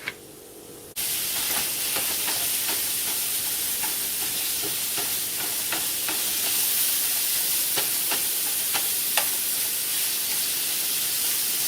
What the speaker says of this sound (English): And then you're going to sear half a pound to a pound of beef stew meat.